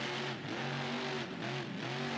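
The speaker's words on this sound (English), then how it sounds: "They have different engine sounds." A game car engine in BeamNG.drive hums steadily at low revs, its tone rising and falling slightly over about two seconds, loud and continuous with no talk.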